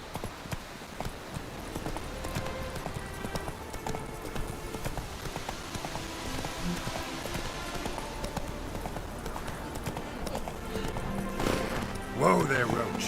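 Roach, a horse in The Witcher 3 video game, gallops with steady clip-clop hoofbeats across the whole stretch, over game music and ambience, with a brief whinny near the end.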